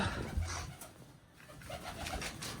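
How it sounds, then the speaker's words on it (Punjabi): Pigeons coo softly in low, throaty murmurs, faint against a light background hum. "ਸਾਰੇ ਵੱਡੇ ਕਬੂਤਰ ਕਬੂਤਰੀਆਂ ਜੋੜੀਆਂ ਵਾਲੇ ਕਬੂਤਰ ਸਾਰੇ ਛੱਡ ਤੇ ਖੋਡਾਂ 'ਚ"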